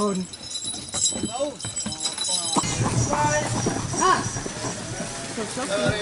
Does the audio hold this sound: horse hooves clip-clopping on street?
yes